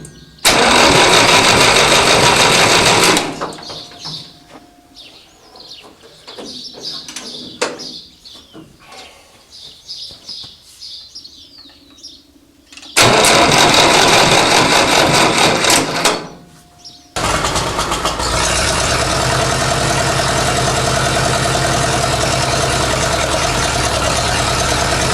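An engine fitted with a Marvel Schebler TSX carburetor is hot-wired: a loud cranking burst, then quieter clicks and rattles as wires are handled, another cranking burst, and finally the engine catches and runs steadily at a loud, even idle.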